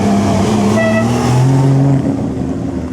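A Lancia Aurelia V6 cruises along at an easy pace during the Mille Miglia, its engine a steady, close drone that rises slightly in pitch as it pulls.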